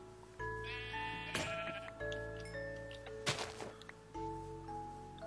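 Sheep bleat repeatedly in Minecraft, modded with Better Than Wolves, as wavering, quavering calls that are clear and fairly close, with a few short sharp clicks between them.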